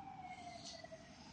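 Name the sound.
sirens heard through an open door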